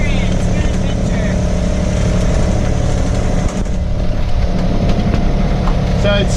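A sailboat's auxiliary motor runs steadily at sea, a loud continuous engine drone with a low hum that fills the whole stretch without a break.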